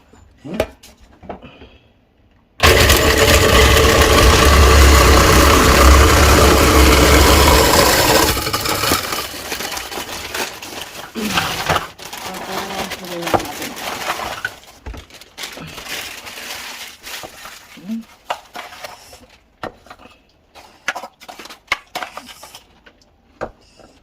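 An electric ice crusher switches on loud and near, grinding and rattling steadily for several seconds, then its noise breaks into rougher, uneven crunching and clatter with a few muffled voices around.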